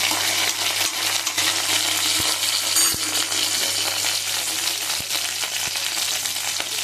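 Steady, loud sizzling of spices tempering in hot oil with green chillies, with a few sharp clinks of a utensil against the pan.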